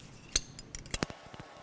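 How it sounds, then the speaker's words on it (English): A 10mm wrench works the small valve cover nuts on a BMW Airhead motorcycle engine, giving a handful of close, sharp metallic clicks and clinks in an irregular rhythm. "to take the valve covers off, there's a couple of little nuts back here. 10mm wrench is what you'll need to remove those."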